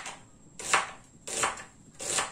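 A knife chopping vegetables on a board, three rhythmic, evenly spaced cutting strokes, close and clear with no voices.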